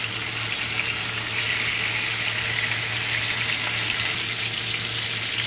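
Steady, dense sizzling of a rump roast frying in rendered bacon fat, a loud continuous crackle and hiss with no voices.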